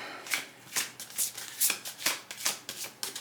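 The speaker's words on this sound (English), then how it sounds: "I gotta get this ready because I did not pre-shuffle this deck." A deck of tarot cards being shuffled by hand, close and crisp, in a series of quick riffling bursts repeated roughly every half second with no talk.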